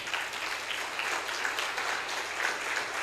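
A church congregation applauding during a sermon, steady crowd clapping that sounds somewhat distant and soft in a large worship space.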